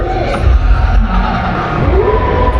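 A Catholic evangelization gathering crowd cheers and shouts continuously, a loud, dense roar with a heavy low rumble and mixed voices throughout.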